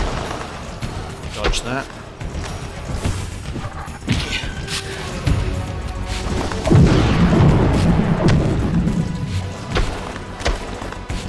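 Fire tornado attack in the video game Legacy of Kain: Defiance, a dense roaring rush of booms, thuds and crashing impacts that swells louder midway, with someone talking over the action.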